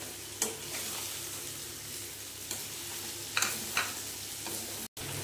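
Govindobhog rice stir-fried in a pan with fried cashews and raisins, a steady low sizzle with scattered scraping stirs and a few spatula clicks, fairly quiet and close.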